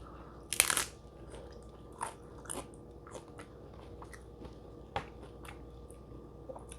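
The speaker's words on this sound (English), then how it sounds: "So definitely have to be very careful with these crunchy tacos." One loud, sharp crunch of a bite into crispy taco shell, then softer crunching chews scattered over the following seconds, close and without talking.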